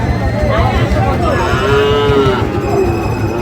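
Sahiwal bull calves lowing at a busy cattle market in Ambari, with several drawn-out moos overlapping one another against a constant crowd hubbub.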